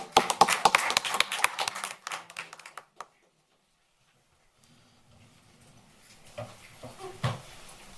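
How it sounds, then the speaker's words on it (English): Applause from the audience at a school board of education meeting, a dense burst of many hands clapping for about three seconds before it cuts off, followed by quieter room noise and faint movement. "One more round of applause."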